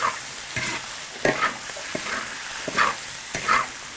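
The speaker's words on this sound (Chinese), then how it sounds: "蛙蛙，青菜、洋葱2斤条放进去继续炒。" Bullfrog pieces stir-fried in a wok with greens, onion, dried chillies and Sichuan pepper, giving a steady close sizzle broken by repeated scraping and tossing strokes of the spatula, several distinct scrapes across the few seconds.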